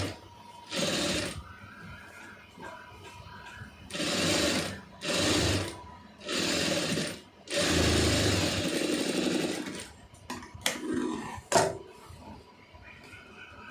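A sewing machine stitches the lining of an Aari blouse in several short bursts of rapid needle clatter, separated by pauses with fabric handling and clicks.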